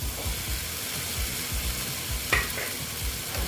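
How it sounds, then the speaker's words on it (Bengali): Okra added to frying masala for a spicy bhindi dish, a dense continuous sizzle under a low rhythmic pulsing, with one brief clink of a utensil partway through. "এখন আমি এই যে ঢ্যাঁড়সগুলো দিয়ে দিচ্ছি"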